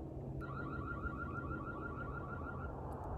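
A Reolink E1 Outdoor camera's siren alarm wails faintly from about 300 feet away, a steady warbling tone held for nearly three seconds over a constant background hiss.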